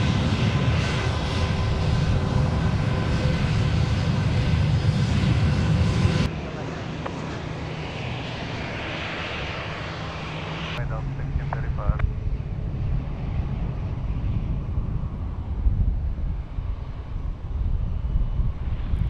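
A Boeing airliner passes at an airport, a loud steady jet engine roar that shifts in tone as it goes by, with voices heard faintly over it.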